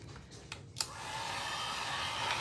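Steady rushing blow of a hair dryer-style heat tool drying an acrylic craft piece, starting after a couple of brief clicks and running loud and continuous to the end.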